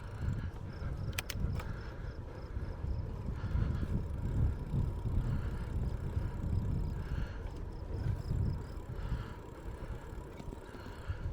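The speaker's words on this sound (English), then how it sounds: "Just riding my bike along on the road." Bicycle ridden along a road on an errand trip, a steady low rumble of tires and rushing wind over the microphone, continuous and fairly loud with no talking.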